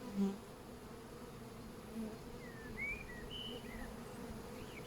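A honey bee swarm buzzing steadily as a branch is shaken over a hive, a low continuous hum with a few louder passing buzzes.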